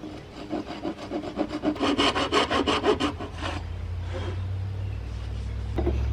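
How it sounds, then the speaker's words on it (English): A handsaw cutting through laminated wood from a 1970s Motorola radio and record player console, steady rhythmic back-and-forth strokes close up that stop midway, followed by a low continuous hum. "That's why I will be using the other handsaw to make it exact."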